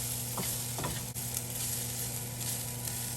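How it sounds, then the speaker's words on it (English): Bacon and flour being stirred in a frying pan while cooking a Renaissance chicken offal dish, a steady close sizzle with a couple of brief scraping strokes of the spoon across the pan, no talking. "It'll just take a bit more stirring"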